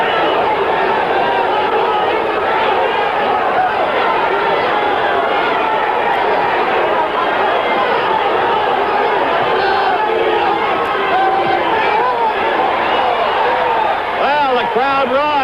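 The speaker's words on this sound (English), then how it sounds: "Crowd roars as Evangelista" Crowd at the 1977 Ali vs Evangelista boxing fight, a loud, continuous roar and chatter of many voices filling the arena, rising slightly toward the end.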